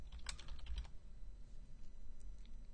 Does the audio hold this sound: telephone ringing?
no